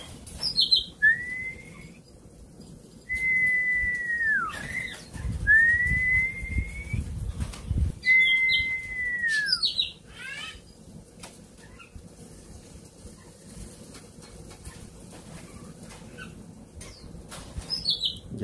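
Two caged songbirds, a wild bulbul and a chuyền bird, placed near each other, trading clear rising whistled calls in short bursts with brief chirps, close and fairly loud over a low steady background hum.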